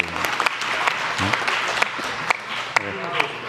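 Audience applause at a Korean public science and technology briefing, a dense patter of clapping running throughout while someone speaks over it.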